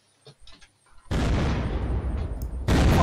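An explosion in the PvP survival game Unturned. After a few quiet, scattered noises, a loud, sudden boom breaks in and rolls on as a sustained roar, then swells again into a second heavy burst near the end.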